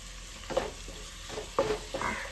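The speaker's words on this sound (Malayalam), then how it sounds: "ഈ മസാലയിൽ കിടന്നിട്ട് തന്നെ കുറച്ച് നല്ലപോലെ ഫ്രൈ ആവട്ടെ" Prawns frying in a masala in a pan, giving soft bursts of sizzle and stirring scrapes that come and go in short bouts, fairly faint and close.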